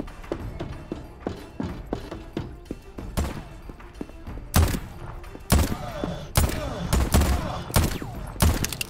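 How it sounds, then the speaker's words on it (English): Gunfire in the video game Voidtrain rings out as rapid sharp shots, some in quick runs and others as heavier single blasts, loud and close with irregular rhythm throughout. "So who's shooting me from where?"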